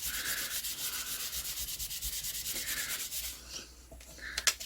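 Hand polishing or sanding of a surface, a steady close scratchy rubbing that runs continuously, thins out near the end, then gives way to a few sharp knocks.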